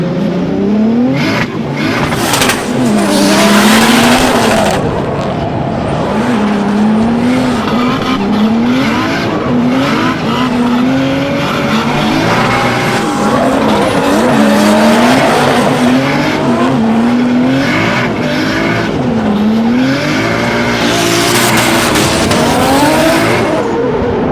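A car driven hard, its engine revving and surging while the tires squeal and skid again and again in loud, wavering bursts across the whole stretch. No one speaks.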